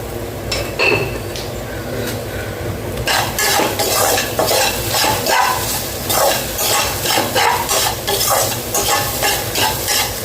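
Vegetables stir-fried in a pan on a stove, with steady frying sizzle and repeated spoon scrapes and clinks against the metal, busy and close throughout.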